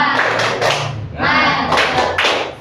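A group claps the rhythmic Indonesian "tepuk semangat" pattern at a teacher training session, loud, close bursts of clapping in quick patterned runs, alongside some voices.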